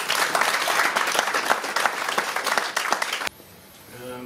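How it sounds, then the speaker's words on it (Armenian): An audience claps together at a book presentation, a dense, lively burst of applause lasting about three seconds before it cuts off abruptly into near quiet. "եկեք մեկ անգամ ևս ծափարենք նրանց։"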